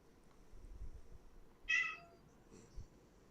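A house cat gives a single short meow, fairly faint against a quiet indoor background with low rumbling and a softer sound after it.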